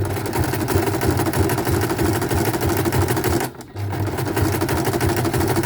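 A sewing machine stitches close to the fabric edge with a fast, steady mechanical whirr close to the mic, briefly pausing for a moment midway before resuming at the same pace.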